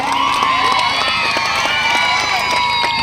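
A crowd cheers and shouts at a state-level mud bullock plough race, dense loud whooping and clapping throughout with no pause.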